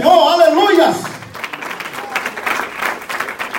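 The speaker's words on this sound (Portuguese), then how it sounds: "vamos aplaudir o Senhor" A church congregation breaks into applause praising the Lord after a loud spoken exhortation from the preacher; clapping follows the voice, moderately loud and dense with a crowd-like spread.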